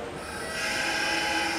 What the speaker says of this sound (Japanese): 1番線には本日臨時停車の新快速豊橋行きが到着をいたします。